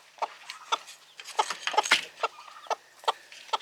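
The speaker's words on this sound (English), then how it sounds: "What are you doing, you silly chicken?" A mother hen with chicks clucking in short, irregular bursts, a dozen or so close, sharp calls with quiet gaps between them and no speech.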